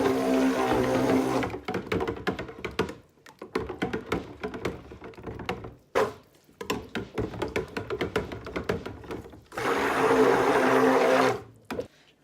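Cold process soap batter with added coloring being mixed, likely with a stick blender, in steady whirring bursts broken by pauses filled with clicks and taps.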